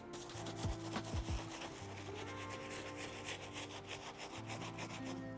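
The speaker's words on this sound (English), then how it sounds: "I'm just gonna lightly brush over in one direction" Dense-bristle brush stroked in one direction over blue suede Adidas Samba shoes, a steady close scratchy rubbing with regular strokes and a few low thumps, no voices.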